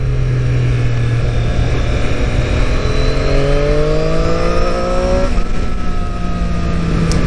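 A 2019 Triumph Street Triple RS motorcycle engine revs hard and pulls through the gears, a loud, close, steady rising whine with one shift step, no talking.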